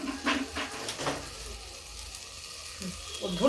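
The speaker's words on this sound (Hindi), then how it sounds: "अब इसी मसाले में हम डाल देंगे टमाटर और अदरक, दोनों चीजें" Tomato and ginger drop into a spice paste frying in a pan, giving a soft sizzle with stirring clatter near the microphone.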